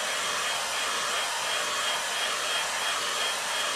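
A hair dryer blows steadily on watercolour paper to speed drying, a loud, constant airy whoosh with a faint motor whine and no talking.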